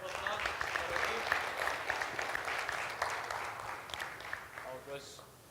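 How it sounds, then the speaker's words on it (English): Audience applauding after a business talk on digital disruption, a steady wash of clapping heard fairly faint and distant, with voices mixed in. "Big round of applause for Rajeev"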